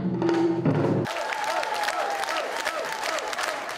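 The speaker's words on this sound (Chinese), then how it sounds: "现场掌声连连。" Audience applause at an outdoor-style ancient music drum show in a sugar-factory cultural park theatre in Tainan, a steady dense crowd clapping that follows a brief low, tonal drum-and-music tail.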